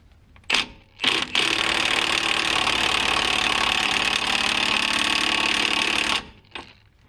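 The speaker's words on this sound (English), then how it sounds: "grab that Milwaukee, crank it all the way up, and floor that trigger." A Milwaukee power tool runs flat out with the trigger held fully down, a loud, steady high-pitched whine lasting about five seconds after a couple of short bursts, then cutting off, during work on a 2005 GTO spacer kit.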